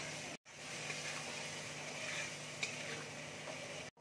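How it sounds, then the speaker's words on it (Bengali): Ground spice paste hits a hot pan for matar paneer and sizzles in a quiet, steady hiss that holds throughout, with only tiny clicks and no talking. "এবার আমি ভাজা মশলাটা যেটা বেটে রেখেছিলাম সেই মশলাটা দিয়ে দিচ্ছি।"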